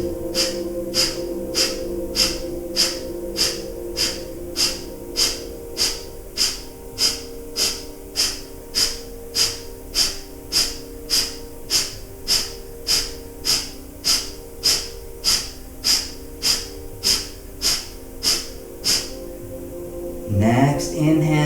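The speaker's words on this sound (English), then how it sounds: "Take a few breaths of fire if it's available." Breath of fire yoga breathing during a solar plexus core class: rapid, evenly spaced forceful nasal exhalations, about one per second, continuing steadily for around twenty seconds over a soft background hum before stopping.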